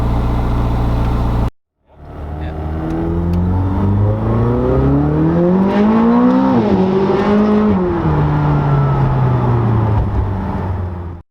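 A 2020 McLaren 600LT Spider in sport mode pulls away on a clean road, its engine droning loudly and rising in pitch as it accelerates, then easing into a steady cruise, heard from inside with no talk.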